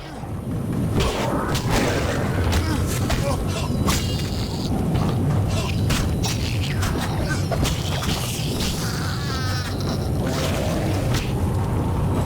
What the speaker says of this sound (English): Oh, I still got hit by the poison explosion.